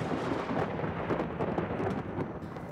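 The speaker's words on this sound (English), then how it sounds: "Hark, is that thunder?" Thunder in an audio play, a dense continuous rumble with crackling, rain-like texture filling the whole stretch, loud and steady without a break and with no voices over it.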